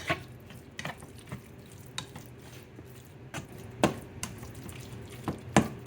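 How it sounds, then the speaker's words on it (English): A utensil stirs shrimp in a hot pan, giving soft scraping and light clatters at irregular intervals, close by and fairly quiet, with no voices. "Stir that in there."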